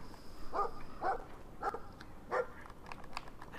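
A dog in the video game Brothers: A Tale of Two Sons gives several short barks at a moderate distance, spaced about half a second apart, over a quiet background.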